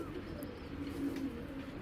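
Soft, low cooing comes from a rare ash-eyed domestic pigeon kept by a pigeon seller, a brief murmur over faint steady background noise.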